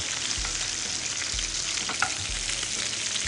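Shrimp fry in oil left over from frying dried shrimp, giving a loud, dense, unbroken sizzle up close with faint stirring.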